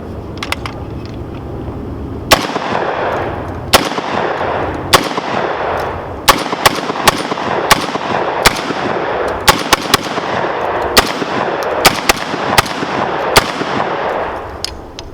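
A Rock Island VR-80 AR-15 style shotgun fires in a rapid string of loud, sharp blasts at uneven intervals, each crack ringing out over a steady outdoor background.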